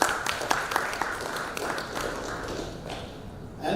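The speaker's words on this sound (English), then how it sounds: "Big round of applause for him." A steady, dense patter of audience applause at a venture capital panel event, with many hands clapping together at even loudness for several seconds.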